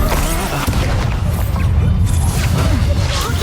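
An Incendio fire spell bursting during combat in Hogwarts Legacy, a loud dense whooshing roar of flame layered with game effects and background music.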